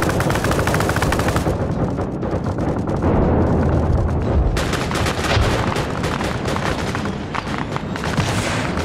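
Heavy, continuous automatic gunfire in the video game Arma Reforger rattles in rapid bursts with booming blasts mixed in, loud and close, barely pausing throughout.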